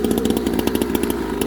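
A souped-up 6-moto mini bike engine for kids' racing, with a small chainsaw-like sound, buzzes loud and close in a steady high-pitched drone with rapid pulsing, alone without voices.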